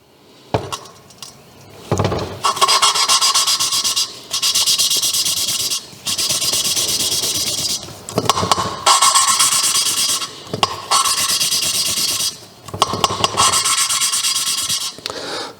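Engine valve lapped against its seat with fine grain compound during cylinder head preparation for an MX5: repeated bursts of gritty, hissing rasping strokes, each a couple of seconds long, separated by short pauses, close and loud with no talking.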